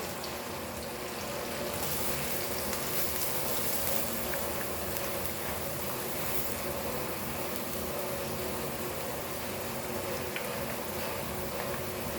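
Onion sizzles steadily in a hot pan for palak paneer, a constant broadband hiss that stays fairly quiet and even throughout, with no talking over it.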